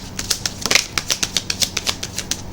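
Tarot cards shuffled by hand in a steady series of crisp riffling snaps, about a dozen quick close bursts spread evenly across the moment with no talking.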